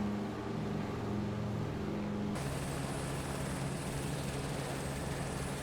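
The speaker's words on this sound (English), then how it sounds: "I wanted to use a helicopter to show you guys" A helicopter flies in Microsoft Flight Simulator 2024 with a constant, loud rotor and engine drone, its tone shifting partway through to a brighter, higher whine that holds steady.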